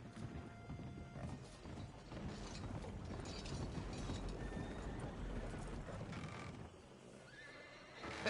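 A horse neighing in the video game Red Dead Redemption 2, a whinny rising over a continuous bed of hoof clip-clop and creaking, rattling wagon mechanisms, fairly loud and close throughout.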